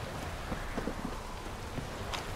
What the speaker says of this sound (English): downpour's a bastard, it is.